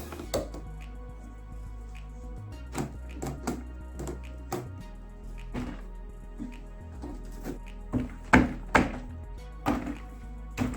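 A hand taps the bottom cover of a Bosch dishwasher back into place, producing a series of close, dull plastic thunks in an uneven rhythm that grow louder toward the end.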